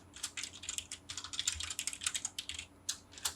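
Quick keystrokes tap on a computer keyboard, a short burst of close, crisp clicks in an uneven rhythm ending with a firmer key press.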